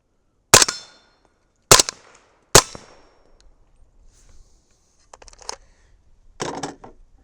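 Three sharp, loud 300 Blackout rifle shots with powder-coated bullets loaded over Winchester 296 powder, spaced about a second apart, each followed by the ringing clang of swinging steel plates, then softer metallic clatter and handling noises.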